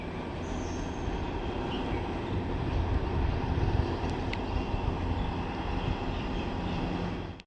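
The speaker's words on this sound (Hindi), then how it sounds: "ये देखो, हमारे बिल्कुल घर के पास से गुजर रही है ट्रेन।" A train rumbling past very close to a house, a steady loud roar of wheels and carriages lasting throughout with faint squeals, ending abruptly.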